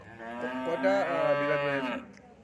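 A dairy cow at a cow show and competition in Agartala moos once, a long, loud, near call lasting about two seconds with rich harmonics, heard alone without talk.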